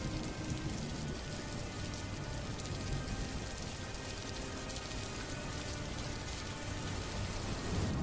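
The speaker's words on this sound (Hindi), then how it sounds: "लेकिन बारिश रुकने का नाम ही नहीं ले रहा था" Heavy rain in a cartoon story, a steady dense hiss of downpour on surfaces that holds even and unbroken throughout, with no voices.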